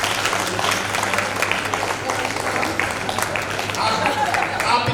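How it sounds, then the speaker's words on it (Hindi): Applause from an audience at a school alumni reunion in Itarsi, a steady wash of clapping filling the room while voices talk over it throughout. "तालियां हैं, तालियां हैं।"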